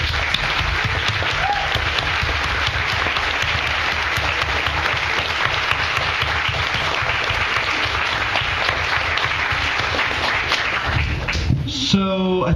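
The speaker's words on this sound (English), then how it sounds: "a round of applause for a totally amazing panel" Audience applause for a discussion panel at a talk event, sustained, thick clapping from a packed room continuing evenly for over ten seconds before cutting off abruptly near the end.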